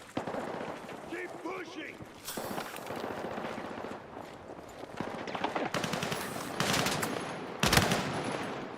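Automatic submachine gunfire crackles in repeated bursts through a Battlefield 6 campaign battle, with loud sharp volleys near the end, while a voice calls out over the shooting.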